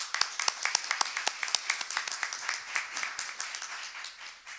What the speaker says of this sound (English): If you would, please welcome me in a round of applause for them